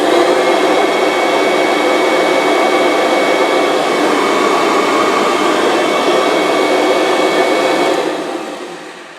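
A Kirby G5 vacuum cleaner with a newly replaced fan roars loudly and steadily, a high whine over a broad rush of air, then begins to wind down near the end.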